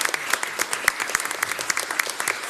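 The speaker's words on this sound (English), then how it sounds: "So let's give Allison a round of applause." An audience at a county tourist development council meeting gives a speaker a round of applause: dense, even clapping from many hands, held steady and fairly loud throughout.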